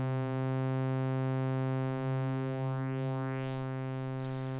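Buchla Easel V synth tone, a steady buzzy harmonic drone with notches sweeping upward through it like a phaser, rising faster toward the end before a short noisy burst; moderately quiet and alone.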